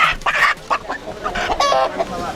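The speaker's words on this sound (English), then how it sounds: "We need a chicken." Chicken clucking repeatedly in a busy market, short close calls in an irregular rhythm over a noisy background, with a faint voice underneath.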